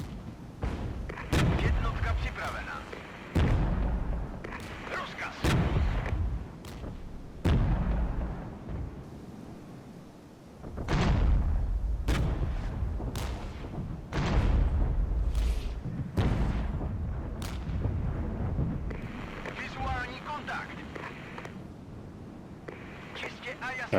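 Artillery fire in the Regiments war game, with repeated booming blasts and sharp bursts at irregular intervals, some heavy thuds close and loud, under continuous talk from a player.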